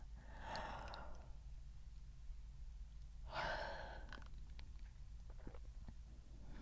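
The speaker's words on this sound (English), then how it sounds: "Now a yawn to help you." Two soft, breathy yawns in a quiet guided nighttime meditation, each an open exhaled sigh, the second slightly longer, heard faint and close over a low steady hum.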